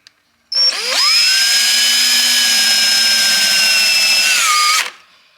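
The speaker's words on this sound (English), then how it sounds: "I can't get my drill in there all the way, so I have to kind of hit them sideways" Cordless power drill whining steadily for about four seconds while driving screws at an angle into a wooden table, a loud continuous high-pitched motor tone that rises at the start and winds down at the end, with no talk.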